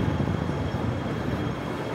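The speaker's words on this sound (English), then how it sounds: "A bunch of trams coming." Several trams rolling along a warm downtown city street, a steady low rumble with rail noise holding throughout, fairly close and without talk.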